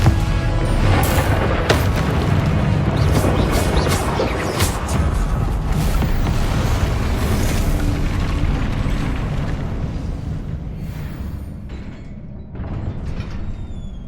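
A Confringo blast spell in Hogwarts Legacy erupts into a loud, sustained explosive roar with crackling bursts, rumbling on for many seconds before easing slightly near the end.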